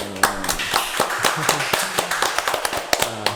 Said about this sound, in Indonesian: Aplaus dulu untuk Balmon Manado